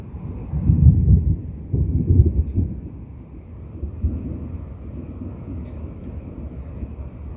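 Deep thunder rumbles through a morning rainstorm in two heavy low rolls early on, then a quieter lingering grumble with a faint steady background hiss.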